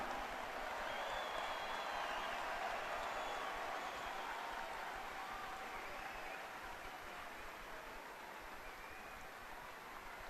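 A large crowd applauds the president at a tribute ceremony for Razorback Final Four teams, a broad, continuous wash of distant clapping and cheering that holds steady and fades slightly toward the end.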